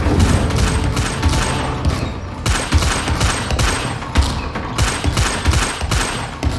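Incendio fire spell cast over and over in the video game Hogwarts Legacy, a dense run of loud crackling, bursting fire blasts with quick repeated impacts, heard alone with no talking.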